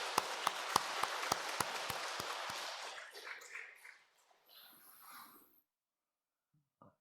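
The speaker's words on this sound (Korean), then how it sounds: "우리 박수로 맞이하도록 하겠습니다." A church congregation at a Korean Sunday service claps in unison: sharp, evenly spaced claps for about three seconds, then a looser patter that fades to silence.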